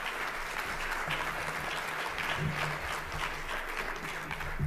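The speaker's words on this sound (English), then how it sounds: "if we could just give a round of applause for them taking their time here this morning" Steady applause from a forum audience welcoming congressmen, dense and continuous clapping at even loudness throughout with no talking over it.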